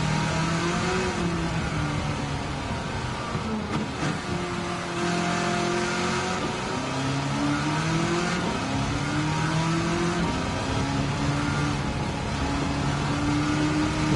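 An engine-swapped Nissan S14 Silvia in Gran Turismo 7 accelerates through several gears, its loud engine note rising in repeated sweeps that dip briefly at each shift, steady and close with no talk.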